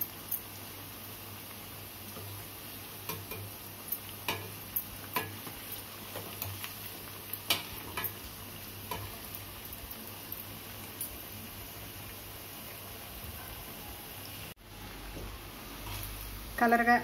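Veg manchurian balls frying in oil, a soft continuous sizzle under repeated clicks and scrapes of a spoon against the pan, close and fairly quiet, with a brief clatter near the end.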